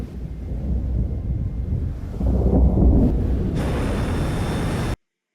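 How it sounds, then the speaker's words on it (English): Thunder in the film Interstellar: a deep, sustained rumble swells and rolls for several seconds, loud and close, then cuts off abruptly. "Thought it was thunder."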